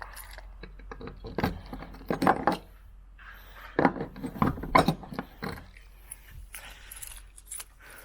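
A set of four metal keys for a 1989 car jangling and clinking in bursts, close and fairly quiet, with brief rattling pauses between handlings and no talking.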